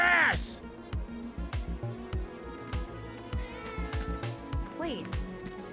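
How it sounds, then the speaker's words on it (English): A cat meows repeatedly in short, rhythmic calls close by, underneath a busy mix of game audio and music. "Wait, did you hear that just now? The cat's standing right there."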